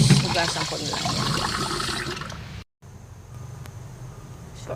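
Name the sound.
washing vegetables (bitter gourd) under running water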